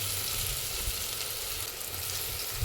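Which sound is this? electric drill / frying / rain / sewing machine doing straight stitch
frying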